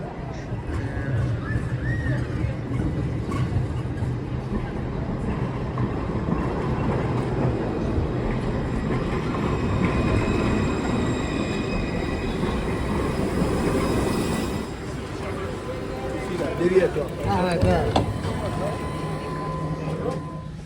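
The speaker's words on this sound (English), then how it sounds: "I think that is our tram coming down the street." An older French tram approaches along a city street on a line running toward Germany, a rumbling rail roll building and holding with brief wheel squeals near the end, heard close over background street noise.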